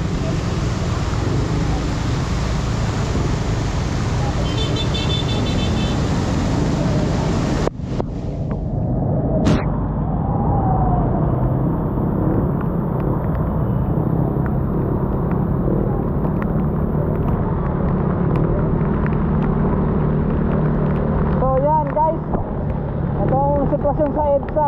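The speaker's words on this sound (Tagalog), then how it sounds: "Kotse to, ang bagal naman." Car crawling slowly along a flooded EDSA road during a typhoon, with loud steady rumble and wind buffeting the microphone, water wash throughout, and a brief voice near the end.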